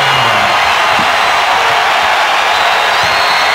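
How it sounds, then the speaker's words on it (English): Basketball crowd roaring after a made jump shot, a loud, dense wall of cheering and shouting held steady throughout. "Boy, and the crowd erupts."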